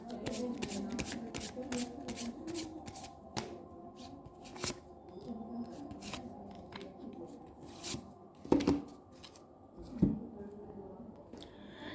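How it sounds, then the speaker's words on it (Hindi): Tarot cards are shuffled by hand and drawn for a Capricorn love reading, in a rapid run of crisp riffling bursts. Softer slides and taps follow as cards are pulled, with quiet talking faintly underneath. "थोड़े से कार्ड निकालते हैं"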